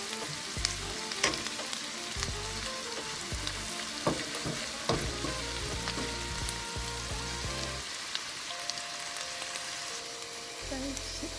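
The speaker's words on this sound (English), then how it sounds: "I'm gonna cook this until the hot dog is brown." Hot dogs frying in a pan until brown, a constant crackling sizzle with occasional pops, heard over a looping music bed with no voice.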